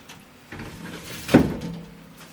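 Small doors on a glass terrarium enclosure for a giant day gecko open and close, a couple of soft sliding bumps followed by one sharper knock, close and alone.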